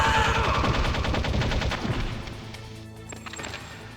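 Rapid, loud gunfire in Metal Gear Solid, a dense automatic burst with steady rhythm that fades into scattered metallic reports and ringing tones, close and forceful with no talking.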